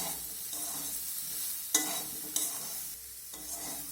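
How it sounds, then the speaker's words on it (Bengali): Soaked soybean chunks being stir-fried with potatoes in a pan: a close hiss of frying broken by two distinct sharp spatula scrapes and quieter stirring, with no speech. "এখন সয়াবিনটাও আমি আলুর সঙ্গে একটু নাড়াচাড়া করে ভেজে নেব"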